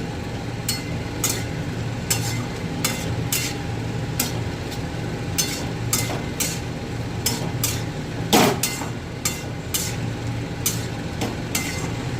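Boiled chickpeas are stirred into frying spices in a pan, a spoon scraping and knocking against the metal in repeated sharp taps at an irregular rhythm over a steady low sizzle and hum.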